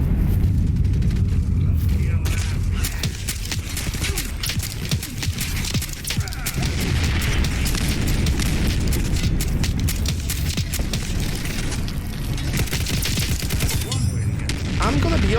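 Rapid automatic gunfire from a modded weapon barrel in Fallout 4, fired at robots in long, dense bursts, loud and close, with heavy low booms and a voice speaking over parts of it.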